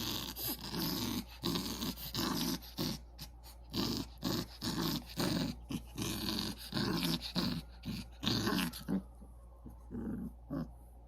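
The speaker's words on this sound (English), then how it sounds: "This is a Rottweiler, y'all." A Rottweiler puppy growls repeatedly in short, rough bursts, close to the microphone, with brief pauses between snarls.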